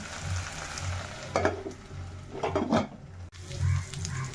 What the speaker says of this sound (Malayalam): ഇപ്പം തേങ്ങ വറക്കാൻ ഇട്ടിട്ടുണ്ട്